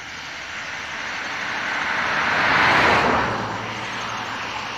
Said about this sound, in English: In a second, you're gonna hear the car coming.